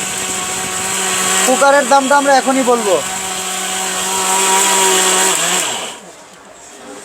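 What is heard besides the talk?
electric blender grinding grain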